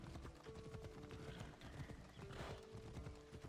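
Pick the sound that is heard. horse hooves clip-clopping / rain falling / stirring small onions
horse hooves clip-clopping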